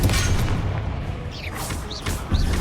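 Confringo explosion spell going off in the Hogwarts Legacy video game, a dense run of booming blasts with whooshing magical streaks over steady battle rumble, loud and close throughout.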